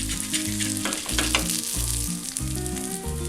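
Fish frying in hot oil with curry leaves added, giving a dense, constant sizzle and crackle, loud and close throughout, with low humming tones underneath and no speech.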